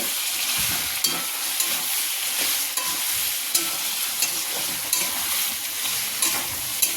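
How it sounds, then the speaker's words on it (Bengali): Ginger paste and a chopped tomato fry in a pot for a Bengali mutton curry, giving a loud, continuous sizzle broken by regular scraping strokes of a spoon. "এবার দিয়ে দেবো বেটে রাখা আদা। নাড়াচাড়া করবো।"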